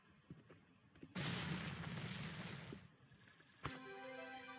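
A sudden loud burst of broadband noise holds for nearly two seconds like a big explosion in the video game Mario 63, then gives way to bright, ringing electronic tones.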